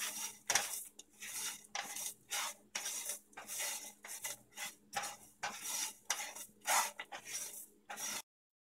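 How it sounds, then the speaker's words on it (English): Sesame seeds being roasted and stirred in a pan with a utensil, giving repeated scraping, rattling strokes in an irregular rhythm, loud and close, with short pauses between strokes and no talking. "So now even the sesame seeds are nicely roasted"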